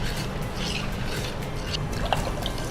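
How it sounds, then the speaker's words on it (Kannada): Water trickles and drips into a ragi masala buttermilk mix, a faint, steady liquid pour heard close up and alone. "ಸ್ವಲ್ಪ ನೀರು ಹಾಕಿ ಹಾಕಲ? ನೀರು ಹಾಕಿ."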